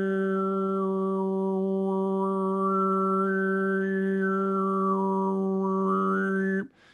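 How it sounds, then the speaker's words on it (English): A woman performs polyphonic overtone singing, holding one steady low drone while a thin, whistling upper tone glides and steps through a melody above it, sustained and unaccompanied for several seconds before stopping abruptly. "she can do this thing called polyphonic overtone singing"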